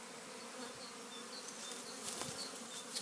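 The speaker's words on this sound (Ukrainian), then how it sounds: "Отакий гул стоїть на пасіці" Steady hum of many bees buzzing at an apiary in spring, a continuous moderate drone with occasional nearer passes, no talk.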